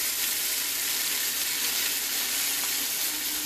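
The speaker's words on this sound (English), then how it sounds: "you're going to want that to simmer in its wine for a little while" Veal simmers in Marsala wine in a pan, a dense, steady sizzle and bubbling hiss that holds evenly close up for a few seconds.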